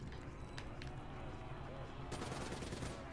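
Rapid gunfire in the video game Black Ops 3, a steady loud stream of shots that grows denser and heavier toward the end.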